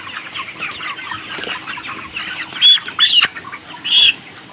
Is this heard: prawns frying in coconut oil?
no